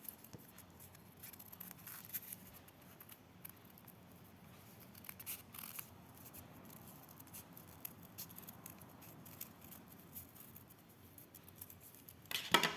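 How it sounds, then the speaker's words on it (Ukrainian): Scissors cut out a paper figure for a children's appliqué craft, making quiet, close snips and rustles of paper in an irregular series, with a louder burst of snipping at the end. "Беремо ножиці і вирізаємо"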